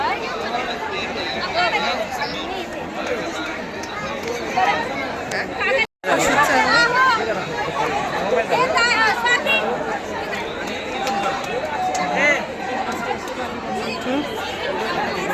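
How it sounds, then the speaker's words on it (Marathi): A large crowd of devotees chatters at the Khandoba temple in Jejuri during Holi, a loud, continuous hubbub of many overlapping voices filling the space with no break. "आमचं दर्शन वगैरे खूप गर्दी आहे"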